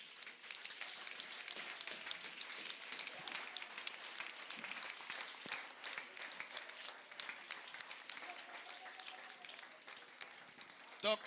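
A church congregation at a meeting in Gabon claps and applauds to praise God, a dense, continuous wash of many hands from a crowd, with voices mixed in throughout.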